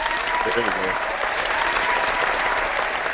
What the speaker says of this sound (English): What's the applause?